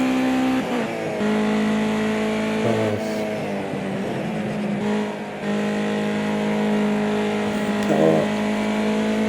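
Ginetta Junior race car engine in a racing video game, a steady buzzing drone that dips and rises with gear changes and lifts off the throttle, constant and fairly loud throughout.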